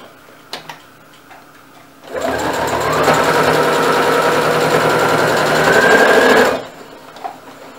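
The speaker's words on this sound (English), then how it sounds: "we're going to sew across this bottom just to where it's sewn" A sewing machine stitches across the bottom edge of face mask fabric in one steady, close, mechanical run of about four seconds, starting and stopping abruptly, with quiet room sound before and after.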